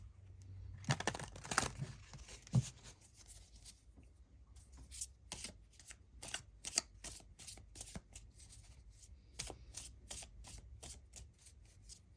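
Light Seers tarot cards are shuffled close up in a quiet room, giving soft papery riffles and then a quick run of crisp flicks and snaps, with no talking.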